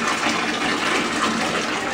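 Water gushing steadily into a bath, a close, continuous broad rushing splash with no voices over it.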